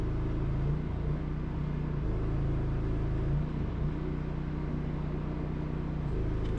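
A new solar-powered air conditioner's fan blows on a turbo setting in a cold house, making a steady close whirring hum with a low motor drone that holds level throughout.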